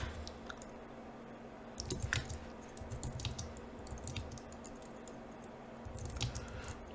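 Quiet, irregular clicking of keys on a computer keyboard, typed in short bursts with brief pauses, over a soft low hum.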